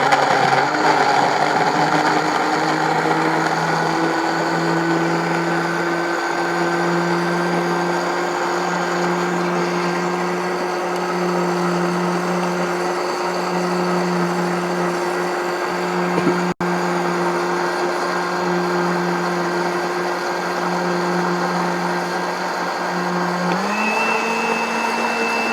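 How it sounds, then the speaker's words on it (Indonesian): An electric blender runs steadily for about twenty-five seconds, whirring herbal remedy ingredients with orange juice until smooth; the constant motor drone holds close and loud, with a brief pitch shift near the end. "Kemudian semua bahan kita blender sampai halus."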